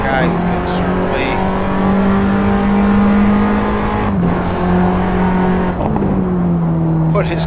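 A Formula Abarth race car engine heard on board at Barbagallo, a loud sustained high-revving drone that dips briefly at gear changes and climbs again, with a commentator talking over it.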